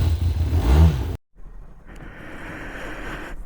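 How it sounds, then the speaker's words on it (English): A motorbike engine cold-started after a cold night gives a loud, low rumbling roar for about a second, then stops abruptly. A steadier, softer noisy hiss follows. "So I'll do the cold start for the bike because last night was so cold."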